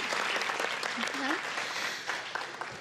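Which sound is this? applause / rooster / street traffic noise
applause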